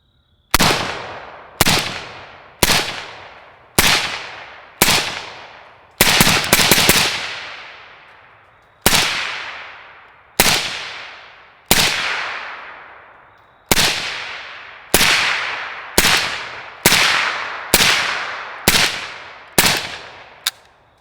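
Ten suppressed rifle shots from an M85 firing 193 (5.56 mm) ammunition through an Anechoic Anechox 223 suppressor, sharp cracks spaced about a second or two apart with a brief tail after each, plus a quick cluster midway, with no talking.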